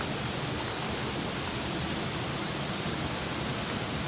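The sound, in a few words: water flowing loudly inside a cave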